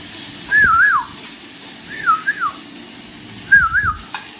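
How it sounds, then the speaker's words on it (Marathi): A person whistles a short wavering tune three times, each phrase separated by a brief pause, over quiet background noise. "मला शिट्टी वाजवायला जमली नाही ना त्यासमोर, म्हणून आता वाजवतो."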